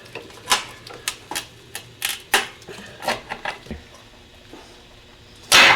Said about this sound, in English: We can now get this particular boot off also by just cutting it.